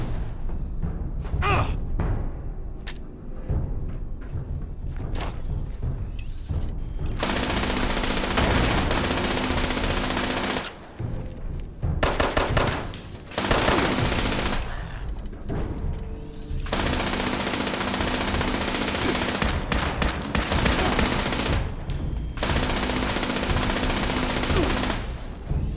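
Gunfire from a weapon in the video game Fallout 76, loud sustained bursts of rapid shots broken by brief pauses, with scattered single shots early on.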